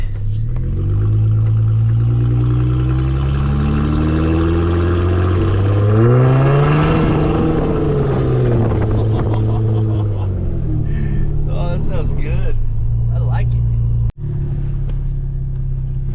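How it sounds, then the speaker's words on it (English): A supercharged Jeep Wrangler with its exhaust cut off roars loud and unmuffled, rising in pitch as it accelerates down the road, then settles, with some speech over it. "We cut the exhaust off. We're gonna go drive it down the road, see what it sounds like."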